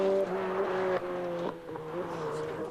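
Mark Lovell's Mike Little prepared Ford Sierra Cosworth rally car on Irish tarmac during the 1989 Circuit of Ireland gives a fairly near, rising and falling engine tone with gear-change breaks, at moderate loudness, with no speech.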